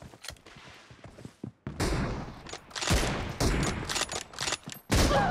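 Gunfire in the mobile battle royale game PUBG Mobile, loud bursts of rapid shots in clustered volleys after a quieter opening, close and punchy with no talk over it.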